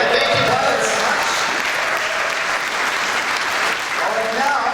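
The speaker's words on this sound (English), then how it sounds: "And now big applause for our rebel pilots over there" A fan convention audience at a Star Wars reunion gives a big round of applause for the actors who played rebel pilots; dense, loud clapping mixed with crowd voices, fading slightly and then picking back up.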